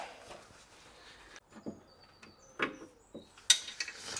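A torque wrench ratchets and clicks while tightening bolts on a Volkswagen Golf R, with sparse mechanical clicks and a sharper snap near the end, close and fairly quiet.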